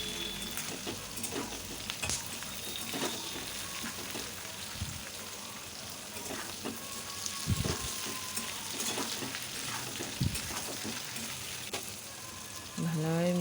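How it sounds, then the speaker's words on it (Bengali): Chilli chicken and vegetables stir-fried in a pan, a steady faint sizzle with occasional scraping stirs and soft knocks throughout. "এবার ভালোভাবে নেড়ে চেড়ে নিতে হবে, যাতে সবজির সঙ্গে চিকেনটা ভালোভাবে মিশে যায়।"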